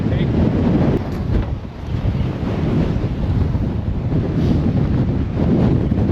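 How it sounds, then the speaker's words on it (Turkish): Strong wind roars steadily through an open car window while riding through the Patagonian desert, a loud continuous buffeting rush with no break. "O kadar çok rüzgar var."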